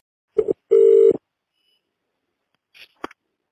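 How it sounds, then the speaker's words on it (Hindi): Telephone tones for a call being placed: a short beep, then a steady, longer dial or ring tone, followed by silence and a couple of faint brief clicks. Fairly clear and isolated, with no talking. "हम बात कर रहे हैं फोन पर सीधा एकनाथ राव खड़से से"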